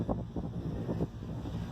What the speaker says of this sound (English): the wind is just really picking up and coming in